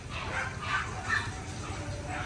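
Puppies in the puppy section of an ornamental dog breeding farm's kennels give repeated yips and whimpering barks at a moderate distance, roughly in an even rhythm, over a low background rumble.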